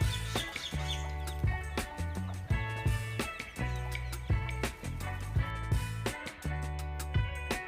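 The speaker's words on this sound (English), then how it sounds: "Hen, young one is chick." A hen clucks in short repeated bursts over a bright, rhythmic musical backing.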